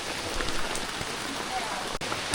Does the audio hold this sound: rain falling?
yes